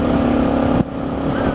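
Motorcycle revving as it passes while riding along a road, a steady loud engine drone that changes pitch partway through as the bike goes by.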